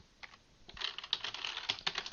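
Quiet, close keystrokes on a computer keyboard as a database username is entered during a WordPress installation: irregular bursts of clicks that quicken in the second half, with no voices.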